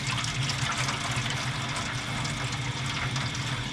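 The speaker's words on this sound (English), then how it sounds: "So stick of butter, pour some water in here." Water poured into a pan holding a stick of butter for smoking brisket, a continuous splashing, hissing stream heard up close and steady throughout.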